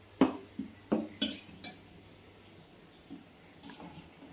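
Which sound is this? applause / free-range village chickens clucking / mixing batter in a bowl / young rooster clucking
mixing batter in a bowl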